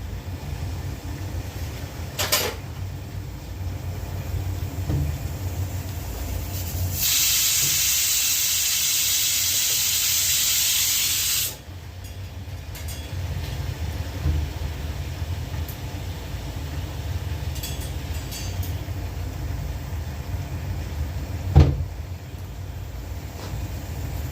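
A pressure cooker whistles, a steady, loud hiss of escaping steam rising for several seconds over a low rumble, then cutting off abruptly, with occasional clicks before and after.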